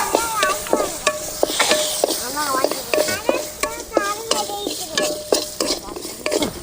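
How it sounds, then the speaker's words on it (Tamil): Garlic and tamarind fry in a pan, sizzling steadily under repeated scraping strokes of a stirring utensil in an uneven rhythm. "பூண்டு நல்லா பொரிஞ்சிக்கிடுச்சு."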